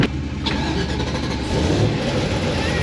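A supercharged LSA engine running E85 in a drift car snaps awake and revs hard, a loud, close, sustained roar that swells further after the opening burst.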